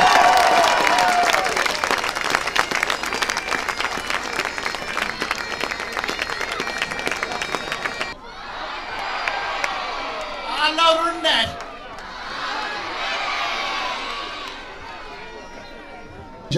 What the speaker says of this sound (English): Let's see you give the biggest cheer of all